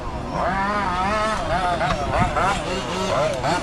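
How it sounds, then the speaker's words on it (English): A 5th scale RC rally car's small gas engine buzzes and revs at a racing qualifier, pitch rising and falling through repeated throttle bursts, fairly close and loud, with voices faintly underneath. "See what this engine can do."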